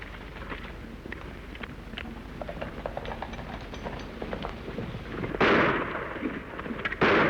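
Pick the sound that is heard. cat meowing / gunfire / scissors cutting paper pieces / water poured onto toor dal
gunfire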